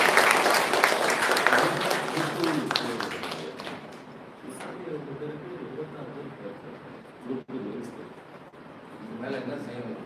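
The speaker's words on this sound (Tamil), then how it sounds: "அந்த வகையில் அவருக்கு ஒரு பெரிய கைத்தட்டல்." An audience at an IAS academy inauguration event in Chennai breaks into loud applause, dense clapping that fades after a few seconds into scattered claps and murmuring, with a voice over the tail end.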